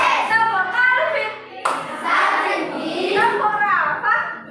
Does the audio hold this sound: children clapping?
yes